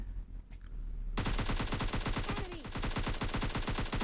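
Automatic weapon fire in PUBG Mobile Lite: after a brief quieter lead-in, a loud, rapid sustained burst of gunshots rattles on without pause to the end.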